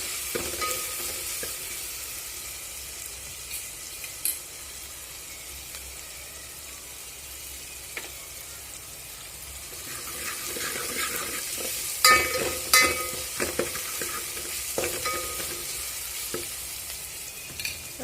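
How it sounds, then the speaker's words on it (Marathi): Fresh green moong beans sautéed in a pan for a village-style kadan, a steady frying sizzle with scattered scraping stir clicks, moderately near and without talk. "आता व्यवस्थित परतून घ्यायचं आहे"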